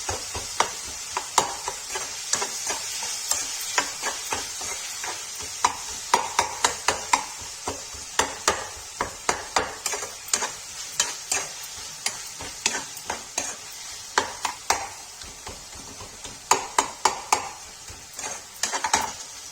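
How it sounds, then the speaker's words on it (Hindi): Chana dal roasts in a pan with a soft, continuous sizzle, while a spoon clacks and scrapes against the metal in frequent sharp strikes as it is stirred. "तब तक इसको भून लेंगे गाइस अच्छे से"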